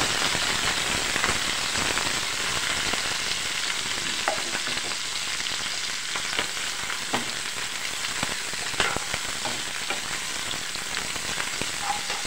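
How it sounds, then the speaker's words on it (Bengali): Shrimp, onion and chopped garlic sizzle together in oil with a bright, continuous hiss, broken by sporadic pops and scraping stirs. "দেখি কীরকম ভাজি করি"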